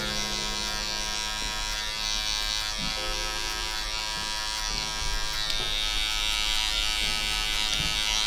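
Electric hair clippers buzz steadily while cutting a low skin fade with a number one guard open, a close, continuous motor whine with small shifts in pitch as the blade moves through hair.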